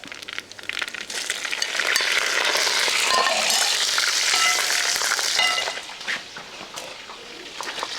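Dried red chillies and curry leaves spluttering in hot oil in a pan for a Kerala sadya koottu curry, a steady close crackling sizzle with light stirring, louder in the middle and easing toward the end.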